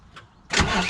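A Deutz BF4M2012 diesel engine in a Volvo BL70 backhoe loader cranks on its starter. A faint brief noise comes first, then a sudden loud, dense churning that sustains to the end.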